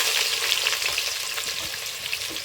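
Cloves, cardamom and onions frying in hot oil give a bright, dense crackling sizzle close by, with small spitting pops and faint stirring, steady and unbroken, no voices.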